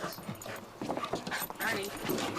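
A dog playing ball outdoors in Knoxville, Tennessee, gives short whimpers and yips in quick bursts, close by, with people talking over it.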